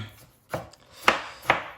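Knife chopping tomato on a cutting board, three sharp separate cuts, close and clear in a quiet kitchen.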